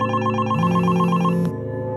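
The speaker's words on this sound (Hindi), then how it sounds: "मेरा फ़ोन बजने लगा" A telephone rings in a horror audio story, a loud electronic ringtone with a repeating warbling tone and a brief melodic rise, close and clear with no voices.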